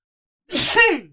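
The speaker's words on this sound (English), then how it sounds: "Hold on, let me sneeze." A single loud, close human sneeze, quick and sharp, following a brief silence.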